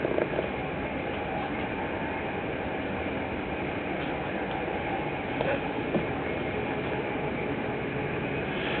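A crowded passenger train runs through Amsterdam, heard from inside as a steady, muffled rumble and hiss of motion with faint clacks, with no voices audible.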